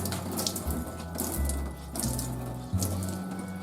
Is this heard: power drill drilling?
no